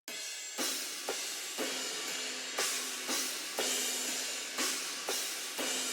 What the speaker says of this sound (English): A lot of crashes for that dystopian rock sound.